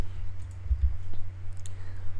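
Keyboard keys pressed while working in Blender: a few faint, sparse clicks sitting under a steady low electrical hum, with no voices.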